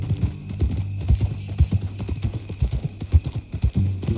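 Rhythmic hoofbeats of a ridden horse in Red Dead Redemption 2, a steady clip-clop gait close by, with a brief snort or low whinny mixed in and no talking over it.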